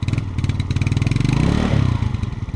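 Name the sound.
Yamaha Ego motorcycle engine running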